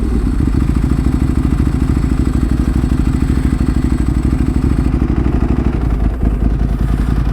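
A Ducati 1098S motorcycle sits idling nearby, its engine pulsing in a loud, even, rapid rhythm with a clattering mechanical tone, continuous throughout with a brief thump near the end.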